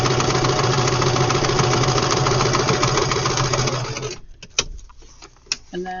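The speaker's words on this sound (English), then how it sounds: "So I'm just sewing them on." A sewing machine stitches paper book signatures, running in a steady, fast mechanical hum for about four seconds before stopping, followed by a few soft clicks and handling noises.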